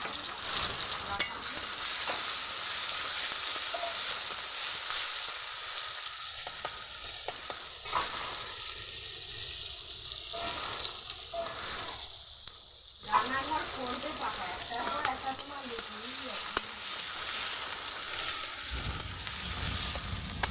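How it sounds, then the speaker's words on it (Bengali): Onions fry in hot oil in a kadai wok while preparing chicken biryani. A continuous sizzle carries throughout with regular stirring scrapes, and a voice briefly talks over it midway. "কড়াইয়ে তেল প্রথমে দিয়ে দিয়েছি, তারপরে আবার আমি পেঁয়াজ দিয়ে দেবো।"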